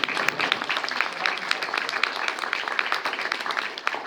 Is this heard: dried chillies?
no